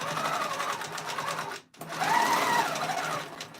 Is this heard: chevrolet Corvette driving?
no